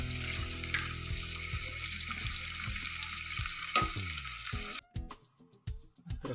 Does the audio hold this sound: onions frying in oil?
yes